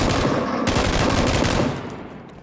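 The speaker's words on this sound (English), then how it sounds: "He's still shooting at us." Sustained rapid automatic gunfire in the video game PUBG, a dense, loud, close burst of shots that runs almost continuously and then fades slightly at the end, with no voices over it.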